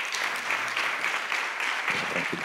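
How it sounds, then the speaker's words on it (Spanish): Applause from an audience at a Spanish educational presentation on open resources, a steady wash of clapping that stays even throughout, with a faint voice surfacing near the end. "pedir, porque yo solo soy un intermediario, un aplauso para todos ellos"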